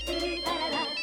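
Incoming call on a phone, a bright melodic ringtone playing continuously and clearly for about a second, with a faint voice in the background.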